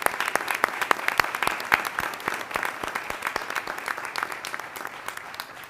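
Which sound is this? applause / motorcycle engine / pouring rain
applause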